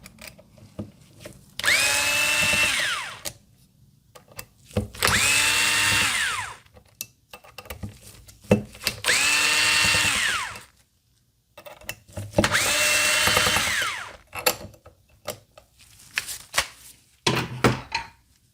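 A Panasonic electric screwdriver backs out 2.5mm screws from the trigger guard of an FX Impact air rifle in four whirring bursts of a few seconds each, separated by quiet handling clicks, with a short fifth burst at the end.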